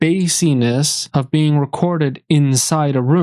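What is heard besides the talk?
No everyday noise stands out behind the speech.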